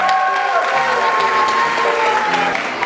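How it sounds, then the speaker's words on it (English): Audience applause for a graduating pre-K class at a school graduation ceremony: strong, steady clapping with scattered cheers and some voices in the crowd. "Please give them a round of applause."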